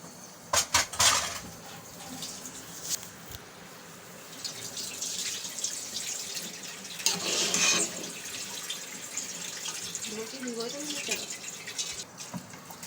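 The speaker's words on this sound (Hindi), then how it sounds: "अब ये चावल धो के मैं इसके अंदर डाल देती हूँ।" Rice being rinsed in water for a beef yakhni pulao, with sloshing, trickling and splashing plus a few clinks of a pot, under intermittent talk.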